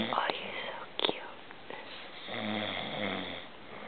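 A sleeping pet lets out a low, drawn-out snore close by in the second half, after a few short clicks and rustles, with quiet whispered voices around it.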